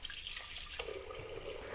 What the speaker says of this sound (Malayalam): ഇനി ഇത് നമുക്ക് വേവിക്കാനുള്ള ആവശ്യത്തിനുള്ള വെള്ളം കൂടി വെക്കാം.